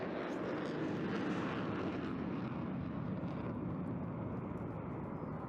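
A twin-engine fighter jet powered by two EJ200 turbofans roars loudly and continuously while maneuvering at an air display, a dense broadband rumble holding steady throughout with no voices.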